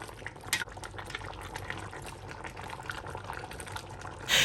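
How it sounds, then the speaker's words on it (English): Chicken light soup, a Ghanaian recipe, steams in a covered pot, giving a faint, steady simmering bubble and hiss with no talking. "So I'm going to cover it and allow it to steam for the next 10 minutes"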